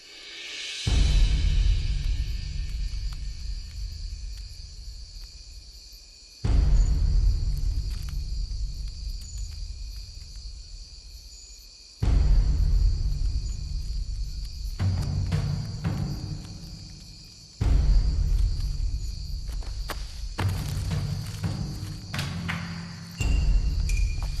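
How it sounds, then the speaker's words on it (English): Bush cricket in the Philippines chirping with steady high-pitched trills, broken by repeated low thumping bursts of rumble every few seconds, with no talk. "This is a bush cricket."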